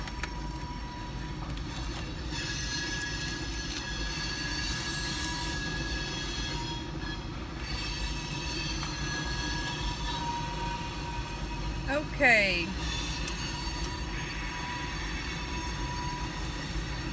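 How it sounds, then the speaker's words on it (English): A train rolls past steadily through the whole stretch with a constant low rumble and a brief wheel squeal near the end, heard from an outdoor seating spot; a person speaks briefly. "Dang, that train is dragging today."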